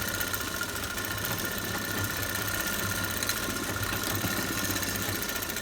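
A sewing machine stitches a bridal sharara, its motor giving a steady, low mechanical hum and whir that runs unbroken and fairly quiet, with no voices.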